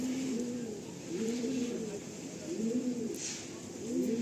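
A tournament pigeon coos up close in a soft, repeated rolling pattern, several low phrases spaced evenly over a faint background hiss.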